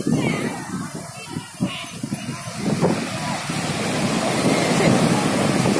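Sea waves wash up onto Digha beach, surf hissing and surging in close beside a windy microphone, with children and other voices calling out over the water.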